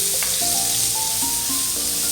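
Ginger garlic paste frying in a pan over a low gas flame, a steady close sizzle throughout with a few faint clinks and scraping sounds, no talk.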